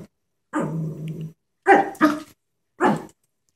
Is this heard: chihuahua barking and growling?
yes